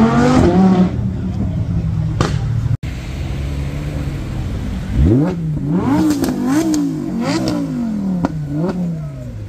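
A sports car at a Cars and Coffee meet in Luxembourg accelerates hard, loud and close, its engine revving up through rising gear pulls, with a brief cutout and then repeated climbing revs.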